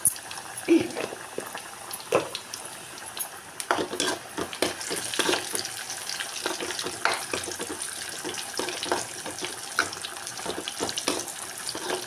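Close, continuous crackling sizzle of garlic and cumin frying in hot oil, with sharp pops and clinks scattered throughout, no voices.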